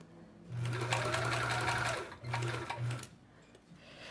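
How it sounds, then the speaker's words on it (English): A sewing machine stitches small puppy and kitty fabric ornaments in a close, steady whir. It runs in one long burst, then in two shorter bursts, with quiet handling noise between them. "we're just gonna go all the way around. I don't wanna get any of that front sewn into here."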